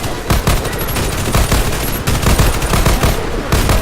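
Video game gunfire in a special operation mission, loud rapid bursts of automatic weapon shots in quick succession, dense and close with little pause.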